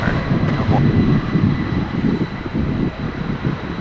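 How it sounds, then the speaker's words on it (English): Two MD-11 jets roaring on takeoff at Dallas/Fort Worth International Airport, a steady, dense, low engine rumble heard from a distance with no break in the noise. "a double MD-11 takeoff for you on Runway DFW"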